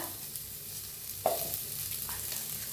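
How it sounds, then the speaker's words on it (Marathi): Sliced onions, garlic, ginger and tomatoes roasting in a pan for a village-style egg curry, a soft steady sizzle with one sharp clink of a stirring spoon partway through. "आता आपण कांदा भाजून घेऊया"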